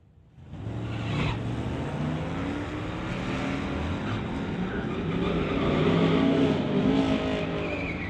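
Two street-legal cars launch side by side at a MOPAC drag strip event, their engines roaring loud and sustained as they accelerate down the track, rising in intensity over about seven seconds with tire noise and no talking.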